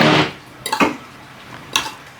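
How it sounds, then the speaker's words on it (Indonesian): A utensil stirs a mixed viral noodle hack in a bowl or pan, giving a few distinct scraping clinks against the dish that are close and clear, separated by quiet pauses. "Aduk semuanya sampai kecampur rata"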